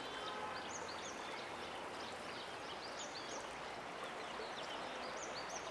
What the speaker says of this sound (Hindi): चिड़िया और नदी के पानी की आवाज़